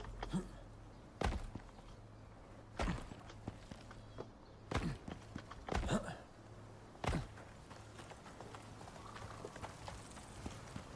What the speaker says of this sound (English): Our horse should follow us down.